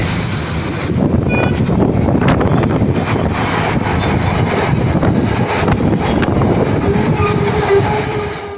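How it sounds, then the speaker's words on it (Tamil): A metro train rumbles past on an elevated track, loud and close, with a steady roar of wheels and rail lasting the whole time, plus faint squealing and clatter. "3வது மெட்ரோ ரயிலே வந்துருச்சு."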